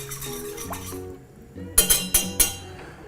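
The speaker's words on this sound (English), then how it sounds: "we're going to heat this up just to be able to mix all that together, stirring along the way" A spoon stirring salt into brine in a pot, giving four sharp metallic clinks against the side, close up after a quieter stretch of tonal sound.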